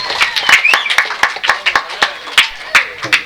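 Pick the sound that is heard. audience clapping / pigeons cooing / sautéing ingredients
audience clapping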